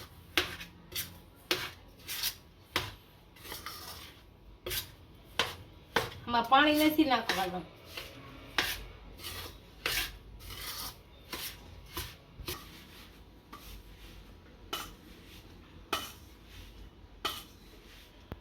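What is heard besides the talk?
stirring and mixing potato snack dough by hand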